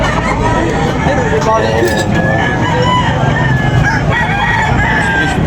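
Roosters crow repeatedly amid clucking fowl and a busy murmur of people talking at a chicken market in Tabunok, with vehicle noise in the background.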